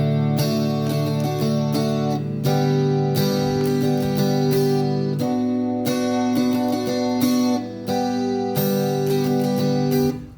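Steady rhythmic guitar strumming, bright chords repeated in a driving pattern with brief chord changes, played alone and close.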